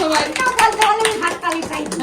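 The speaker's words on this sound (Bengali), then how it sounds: "হাততালি দিল" Hands clap in quick, uneven bursts at a child's birthday celebration, mixed in with sung voices and chatter throughout.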